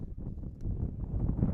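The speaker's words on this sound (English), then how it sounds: "Gust of wind comes up again." A gust of wind buffets the microphone at an outdoor high school softball game in North Dakota, a low rumbling whoosh that builds over a couple of seconds with no talking.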